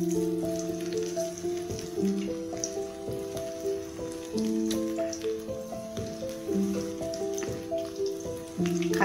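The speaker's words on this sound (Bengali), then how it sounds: "একটা একটা করে চিকেন দিয়ে দেবো।" Chicken pieces go one at a time into hot oil and fry with a steady close sizzle and spatter, while tonal music plays over the top throughout.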